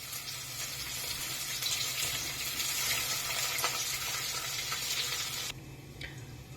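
Onions sizzle and fry in a pan for an okra and egg masala, a steady, soft broadband hiss that runs evenly and drops off abruptly near the end, leaving a quieter background.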